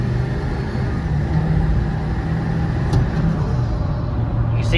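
A 7.3 Powerstroke diesel pickup accelerates at full throttle from a roll, a loud, sustained deep rumble with rising engine drone heard from inside the truck.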